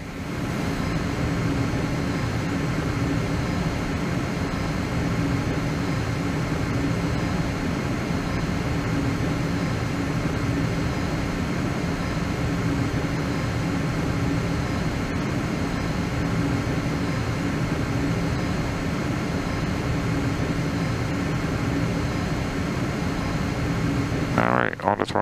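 A simulated airliner on landing approach into Bozeman with gear down and flaps full, its engine drone a steady, loud, even roar that holds throughout with a faint shift at the very end.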